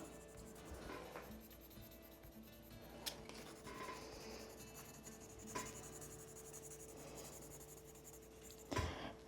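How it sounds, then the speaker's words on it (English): A colored pencil scribbles on paper in quick multi-directional strokes, a faint, close, continuous scratchy rasp with a few sharper taps and a thump near the end, and no talking. "go in and just go all over the place with your pencil in different directions."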